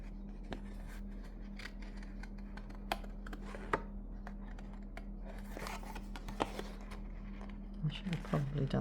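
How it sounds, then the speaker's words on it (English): Scissors snip through paper in quick, soft, irregular cuts as a small piece is fussy cut by hand, faint and close over a steady low electrical hum. "You don't need to watch me fussy cut."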